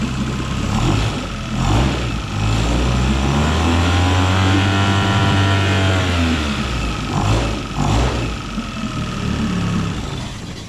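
A small two-cylinder four-stroke outboard motor on a jon boat idles steadily while warming up, a continuous close, loud engine drone with slight swells in pitch and no speech.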